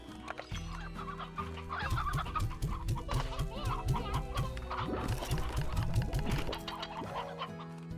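Chickens cluck repeatedly in a video game, a dense, steady run of short clucks over a continuous game music bed, loud and close throughout.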